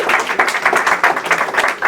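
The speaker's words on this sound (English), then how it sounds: "A round of applause for her." Audience applause for the president of POA at a leadership gathering at the UN, a steady wash of clapping from a crowd that stays fairly loud and even throughout, with no voices over it.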